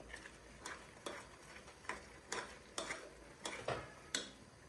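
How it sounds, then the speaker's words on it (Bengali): Spiced masala frying in oil in a pot for tehari, heard as a series of sharp, irregular scraping stirs of a spoon against the pan over a faint, quiet sizzle, with no talking. "তো এখন এটাকে সুন্দর করে ভেজে নিবে তেলে"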